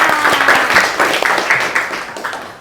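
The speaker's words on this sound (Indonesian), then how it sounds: "Oke, tepuk tangannya." Children in a classroom clap their hands together, a brief ragged burst of many small claps that is loud at first and then tapers off, with no talk over it.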